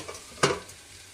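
Methi aloo, fenugreek leaves and potatoes, being stirred while frying in a pan: a quick scraping stir with a short burst of sizzle, then faint crackling settles.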